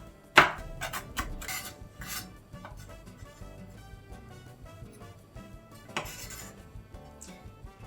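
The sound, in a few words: chopping a chili pepper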